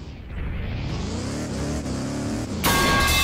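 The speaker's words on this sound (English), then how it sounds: "I think I'm stuck. Because I can hear my car." A car engine runs at a steady hum under gentle acceleration, rising slightly in pitch, then a sudden louder burst of noise near the end; no talk.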